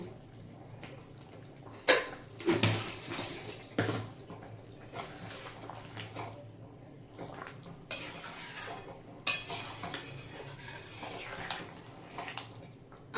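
A spoon stirring raw hilsa curry with yogurt and salt in a metal pan, giving close clinks and scrapes against the pan at irregular intervals over a faint simmer.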